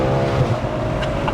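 Ferrari 812 GTS V12 engine with a sustained, loud steady drone and rumble, close by, with a faint rise in pitch toward the end.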